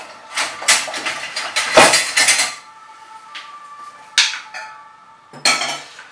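Salad servers toss a green asparagus salad with vinaigrette in a bowl, giving bursts of close clinking and scraping in several rounds with quieter pauses between, no voices.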